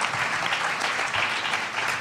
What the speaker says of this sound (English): You got a tumultuous round of applause.